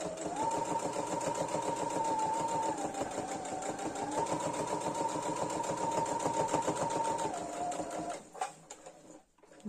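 A sewing machine stitches fabric for a mask pouch, a close steady mechanical whir with a rapid needle rhythm that runs for about eight seconds, then stops, leaving a few faint handling clicks.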